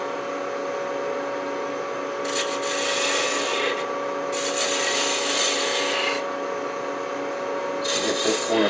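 A 3/8-inch spindle gouge cuts a wooden antique bedpost finial spinning on a lathe, a continuous hum under bursts of loud, hissing, scraping cuts that come and go in passes.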